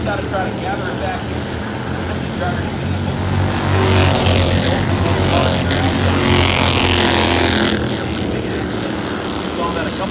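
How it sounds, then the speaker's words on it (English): Bandolero race cars roar around the oval at Auburndale Speedway, a steady loud engine drone that swells as cars pass, under continuous excited race commentary. "Here comes White, reeling in that 61 car on corner exit."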